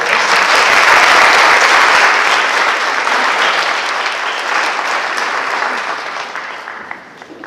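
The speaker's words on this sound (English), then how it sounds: "Let's have a round of applause for our seniors." An audience applauds for the seniors at the MHS 2019 National Honor Society induction ceremony. The clapping is loud and dense at first, then fades gradually over several seconds.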